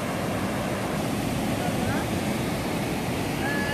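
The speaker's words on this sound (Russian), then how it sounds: "Как шумит вода, завораживает." River water rushing steadily near a rocky outcrop in France, a constant close broadband roar with no breaks.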